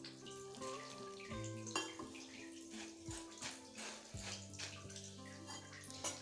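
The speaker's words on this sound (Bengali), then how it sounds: "গরম জল ঢেলে দেব।" Hot water pours onto puffed rice (khoi) in a bowl, a steady close splashing gush over sustained tonal background sounds.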